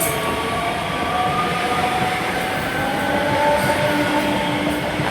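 A train rumbles steadily past at Haymarket station in Edinburgh, close and loud, with a continuous roar of wheels on rail and faint tonal whines throughout.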